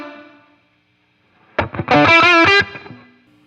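Electric guitar played through a Line 6 Catalyst 100 amp with the reverb set post, a brief strummed chord burst of several quick strokes ringing into a reverb tail, preceded by a fading sustained note.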